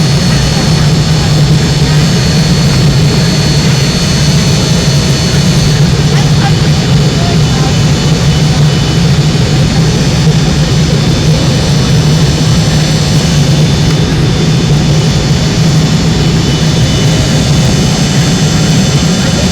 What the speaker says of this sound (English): roar of the engine this time, not the rumble.